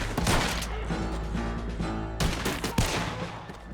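Gunfire in Red Dead Redemption 2: loud, dense volleys of rapid shots with crashing impacts, a brief pause, then another burst of shots, continuous throughout.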